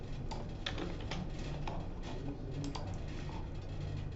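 Computer keyboard typing as code is entered during a programming lecture, a run of light, uneven key clicks sitting under a steady low room hum.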